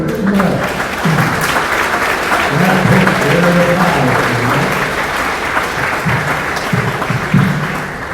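Loud, sustained applause rises from an audience at a county fair, with a voice talking faintly through the clapping.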